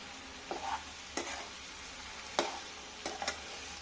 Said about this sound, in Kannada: ಈಗ ಬಾಳೆಕಾಯಿ ಬೇಯ್ತಾ ಇದೆ ಇನ್ನೊಂದು ಫೈವ್ ಟೆನ್ ಮಿನಿಟ್ಸ್ ಬೇಯಲಿ